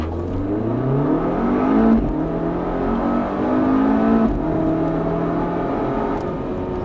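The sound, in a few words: Volvo V60 Polestar launch control full-throttle acceleration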